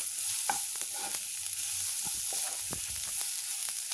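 Spice mix with red chili powder sizzling in oil in a pan for palak paneer, a steady close frying hiss with occasional soft scrapes of stirring and no talking.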